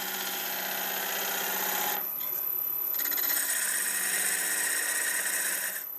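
A gouge shears across a natural-edge olive wood bowl spinning on a lathe, giving a close, continuous rasping scrape that briefly drops away and then resumes for several seconds.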